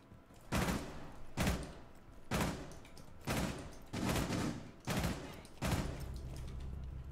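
Gunfire from Thorne's weapon in Rainbow Six Siege, seven loud, evenly spaced shots or short bursts about one second apart, each with a sharp crack and a brief echoing tail.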